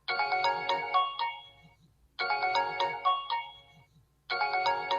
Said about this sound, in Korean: 사실 벨소리는요, 좀 약간 아쉬움이 많이 드는 멜로디입니다